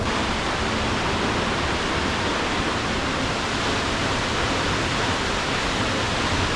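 Catarata Del Toro waterfall in Costa Rica gives a steady, loud, broadband roar of falling water with no breaks, heard close and alone without voices.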